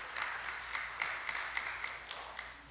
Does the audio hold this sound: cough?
no